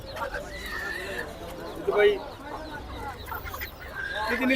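Hens cluck and squawk at a busy poultry market in Hemayetpur, Bangladesh, while people talk nearby, the birds' calls popping up repeatedly through the chatter.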